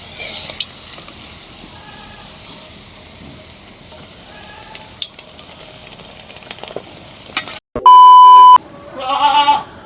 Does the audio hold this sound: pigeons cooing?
no